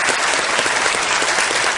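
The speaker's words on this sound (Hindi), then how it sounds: "एक बार फिर तालियों के साथ बहुत बहुत स्वागत।" Studio audience applause at a televised Kaun Banega Crorepati quiz show taping, a dense, steady wash of many hands clapping at close range, loud and sustained throughout with no talk over it.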